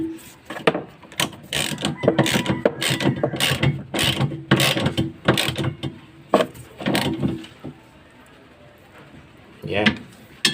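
A ratchet tightens the bolt on the belt pulley of a Samsung automatic washing machine with quick rhythmic clicking strokes in close bursts, pausing briefly and resuming once more near the end; someone speaks now and then.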